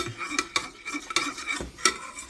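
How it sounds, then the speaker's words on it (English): Milk and butter being stirred into macaroni shells in a metal pot, giving a series of quiet, irregular scrapes and clinks of the spoon against the pot, close up with no talking. "Let's stir the milk and butter together real quick"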